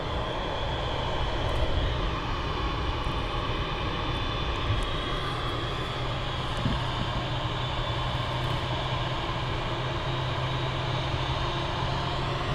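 A Boeing 787 Dreamliner airliner moves slowly past at Manchester Airport with a long, steady engine drone and low rumble, holding an even level throughout, without speech.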